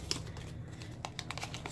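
Plastic packaging of skin patches crinkling as it is opened, quiet close crackles and rustles in short bursts against a low steady hum.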